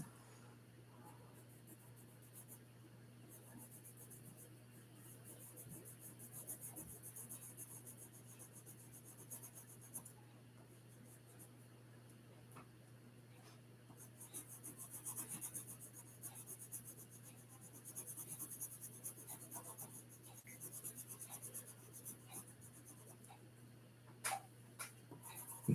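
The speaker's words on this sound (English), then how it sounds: "You guys get to listen to some pencil ASMR today." A pencil shades on paper while a sprint car is drawn, giving a very quiet, steady scratchy rubbing with soft irregular strokes over a low constant hum, close up and alone.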